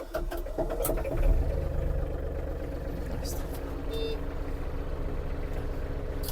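An Iseki TG-31 Japanese mini tractor's diesel engine turns over and catches, then settles into a steady, close mid-pitched running drone with a brief rough burst near the start and faint talk over it.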